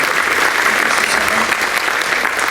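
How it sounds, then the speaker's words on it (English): Banquet guests at a university spring reunion applaud for Jared Brott, a loud, continuous, close wash of many clapping hands that holds steady throughout. "Big round of applause to Jared Brott over there, who's supplying this microphone."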